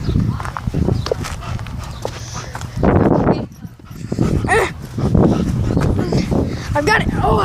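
A dog playing tug of war with a toy, making close, loud scuffling and tugging noises with growl-like rumbles that run continuously, with a brief lull midway.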